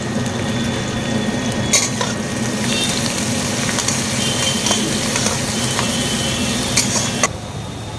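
Chopped onion, garlic and ginger spice mix fries steadily in a pan for ghugni, giving a loud, continuous close sizzle with faint stirring scrapes and no voices.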